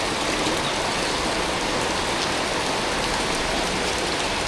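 Steady, dense rain pouring down, a continuous loud hiss of drops with no breaks and no voices.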